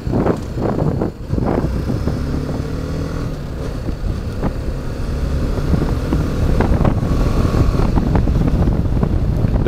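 A BMW G310GS motorcycle rides along with its engine droning under heavy wind buffeting, its pitch rising and dipping through smooth gear changes, heard from the rider's position.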